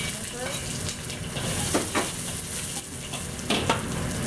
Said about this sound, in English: You just put about 1 tablespoon oil in it. And put the onion.